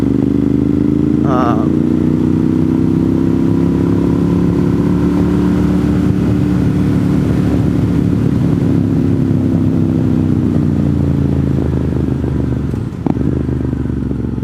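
An older Monster motorcycle with a dry clutch rides along Old Murphy Road in Western North Carolina, its engine a loud, steady drone with rushing wind noise that persists throughout.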